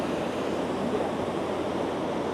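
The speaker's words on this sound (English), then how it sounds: "You hear the water rushing below us." Water rushes in the river below the Yukon Suspension Bridge, a steady, dense roar that carries on unbroken, fairly loud and alone, with no talk.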